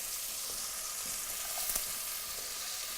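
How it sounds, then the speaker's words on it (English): Vegetables for an Umbrian ragu sizzle steadily in a pan, a continuous close frying hiss with faint scrapes as they settle, no voices. "We're going to put our vegetables into the pan."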